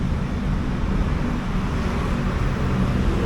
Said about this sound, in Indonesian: Masih ramai kendaraan ya.